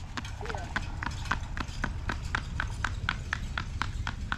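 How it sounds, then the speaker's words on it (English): A small horse named Ranger walks along, its hooves clip-clopping in a steady, even rhythm on a hard surface, close and clear for several seconds with people talking over it. "Listen to his little hooves."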